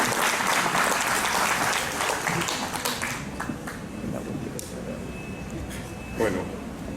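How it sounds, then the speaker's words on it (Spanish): An audience at a presentation claps steadily for several seconds, the applause loud at first and gradually thinning out, with a few scattered claps at the end. "Un aplauso por favor para ellos y comenzamos la presentación."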